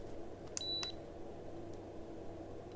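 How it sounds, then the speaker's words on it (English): A single short electronic beep rings out against a steady low hum, with a couple of faint clicks nearby. "And you'll hear that beep"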